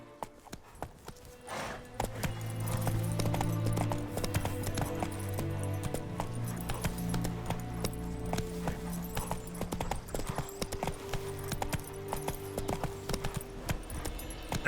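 Roach, a horse in The Witcher 3, ridden at a steady pace, its hoofbeats a rhythmic clip-clop that starts after a short pause and continues evenly over a low game soundscape.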